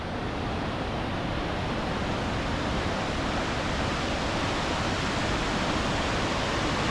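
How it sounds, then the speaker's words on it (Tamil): Jog Falls sends down rushing water in a steady, dense roar with no breaks, heard from a distance and fairly loud, with no voices over it. "மற்ற அருவிகள் இருக்குங்க."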